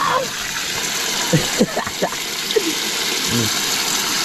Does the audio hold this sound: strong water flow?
yes